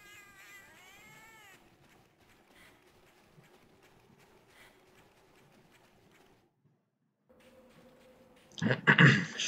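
Cat meowing in a video game, rising tonal calls at the start, followed by quiet game sounds and a loud burst of noisy action near the end.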